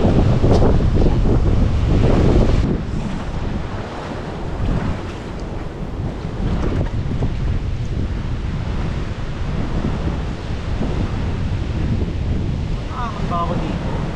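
Sea waves surge against the rocky shore at Green Lagoon in Catanduanes while strong wind buffets the microphone, a continuous loud roar with a faint voice in the background.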